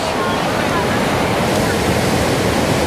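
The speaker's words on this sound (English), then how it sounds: "Oh, the force of this water, it's quite astonishing." Forceful rushing water at the Wai-O-Tapu geothermal area in New Zealand, a dense, continuous roar filling the whole moment, loud and close with no breaks.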